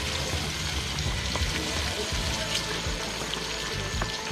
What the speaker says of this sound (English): we are sauteing them up here a little bit